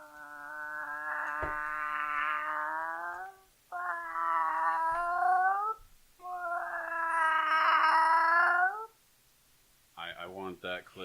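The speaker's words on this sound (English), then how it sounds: "Cat in heat." A cat in heat caterwauls in three long, loud, drawn-out wavering yowls, each several seconds, close and dominant, followed by brief talk at the end.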